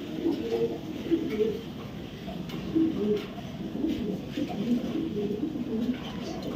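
Budapest breed pigeons coo in soft, repeated low calls nearby, set against a steady noisy background.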